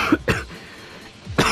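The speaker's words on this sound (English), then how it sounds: "how can I get rid of a cough?" Three sharp, close coughs from one person, two quick ones near the start and another a second later, with quiet between them.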